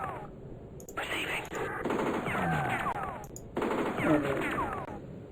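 Gunfire in the strategy game Spellcross sounds as rattling bursts of shots, in two main volleys separated by a brief pause, over a steady game background.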